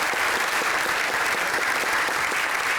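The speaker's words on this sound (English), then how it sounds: "Please give another huge round of applause." A live audience claps for a panel at a Bitcoin policy event in Washington, DC, with steady, dense applause filling the room throughout.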